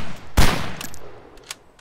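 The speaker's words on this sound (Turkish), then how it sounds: "Silah sesi geldi ki gel." A single loud, sharp gunshot crack in DayZ followed by a few fainter, distant shots, with a short echoing tail between them.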